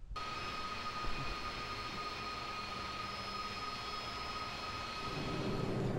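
A steady airliner engine drone in a flight simulator game plays alone, a constant hum with high whining tones and a low rumble that grows slightly fuller near the end.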